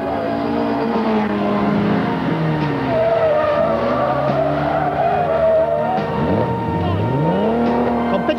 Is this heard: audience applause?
no